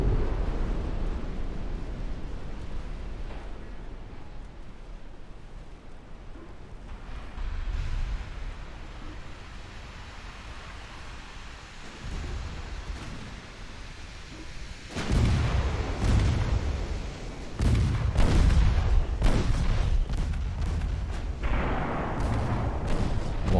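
Warship guns fire and shells explode in a naval battle video game, with a low rumbling background and scattered heavy booms that build into a dense burst of blasts toward the end.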